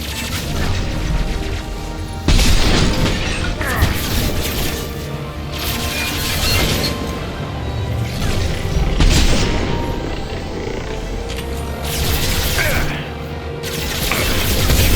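Mass Effect 2 combat against the geth on Insanity difficulty, with loud, repeated booming explosions and bursts of heavy gunfire in uneven waves, occasionally under brief voices.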